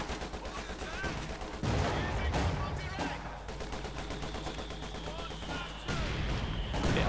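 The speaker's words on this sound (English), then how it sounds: "A bit of mortar fire, Panther firing, anti-tank gun firing." Mortar rounds, a Panther tank and an anti-tank gun fire in a Company of Heroes 2 battle, with repeated sharp booming shots and bursts over constant game noise and a talking voice, and two heavy blasts standing out.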